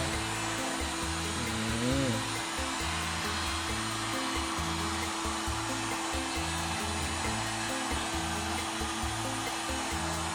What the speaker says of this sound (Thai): นี่คืออะไรครับเป่าร้อนนะะ ใช่ครับเป่าให้กาวมันคลายตัว